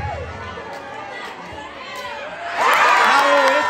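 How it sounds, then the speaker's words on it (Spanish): Crowd at a children's football tournament event with over 400 players from various schools, chattering and then rising into louder cheering and shouting, with voices calling over the noise. "¡Este aplauso que se escuche fuerte!"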